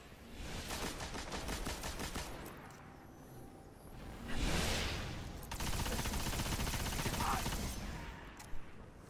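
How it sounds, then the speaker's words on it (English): An auto rifle in Destiny fires rapid, evenly spaced shots in long sustained bursts with short gaps, loud and up close amid other in-game combat noise. "I do like the stability of this auto rifle."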